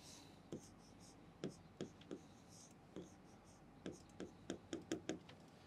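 Pen strokes while an equation is written out by hand, a quiet, close series of short, sharp scratches in uneven bursts, with faint background murmur.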